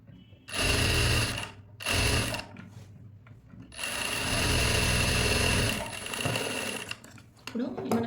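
Domestic sewing machine stitching the seams of a princess cut blouse, running in two short bursts and then one longer steady whirring run, close and fairly loud.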